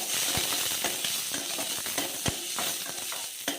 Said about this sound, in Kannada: 2 ಸ್ಪೂನ್ ಎಣ್ಣೆ ಹಾಕೋಣ. ಮಾಡಿರುವಂಥ ಈರುಳ್ಳಿ, ಫ್ರೈ ಮಾಡ್ಕೋಣ.